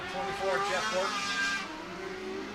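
Race cars circling a dirt speedway oval at Coles County Speedway during weekly racing, a steady engine drone with rising and falling whine as they pass, heard under an announcer's commentary.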